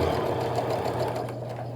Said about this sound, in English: now I'm just sewing down, pretending that that line that I drew is the edge of my fabric